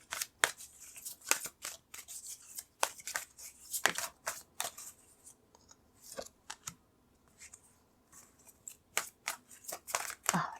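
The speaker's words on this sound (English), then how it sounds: "So I'm going to pull some cards with that." Oracle cards are pulled and handled from a deck in a string of sharp, close papery snaps and rustles, some louder than others, with quiet gaps between bursts.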